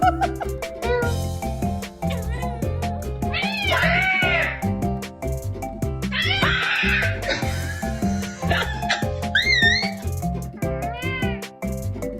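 A person mimics a cat, voicing repeated meows and whiny caterwauls over steady background music, with several distinct meow calls spread throughout.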